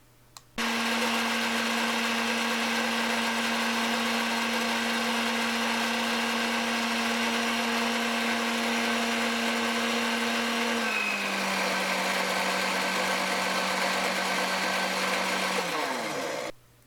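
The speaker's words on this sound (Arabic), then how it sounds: "وغادي نخلط الكل جيدا في الخلاط الكهربائي" Electric mixer whirring steadily as it blends pancake batter, a loud continuous motor hum that drops slightly in pitch near the end before switching off.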